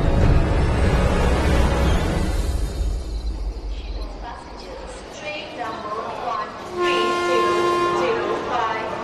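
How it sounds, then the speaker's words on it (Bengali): A train whistle sounds several times over the steady murmur of a crowded railway platform, with a low rumble at the start and the tonal blasts growing clearer toward the end. "ট্রেনের হুইসেল বাজে, প্ল্যাটফর্ম ভরে গেছে মানুষের কোলাহলে"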